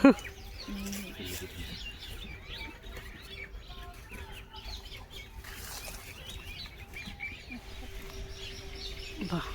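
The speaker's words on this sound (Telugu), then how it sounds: "నేచర్ సౌండ్ చూడండి ఎలా ఉంది. పక్షులన్నీ ఫుల్గా పండగ చేసుకుంటున్నాయి." Many small birds chirp and twitter here and there in the open air, fairly faint, with a low steady hum beneath.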